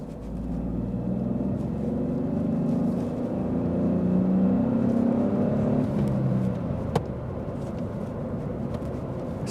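A Smart Fortwo 453 with a three-cylinder 1-liter engine accelerates from inside the cabin, a steady muffled rumble and whir whose pitch rises slowly, with a small knock near the end and no talking.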